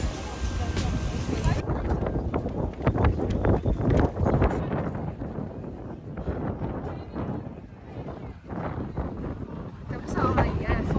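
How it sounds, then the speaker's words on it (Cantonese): Strong typhoon wind under a number 8 signal at the Osaka Expo grounds roars and buffets the microphone in a loud, continuous rush, with voices exclaiming over it. "感受下而家嘅風力，8號風球嘅風力"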